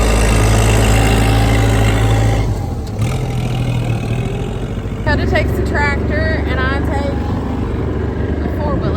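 A heavy tractor engine rumbles steadily up close on a farm in winter, its tone shifting partway through, with some higher squeals riding over the low drone.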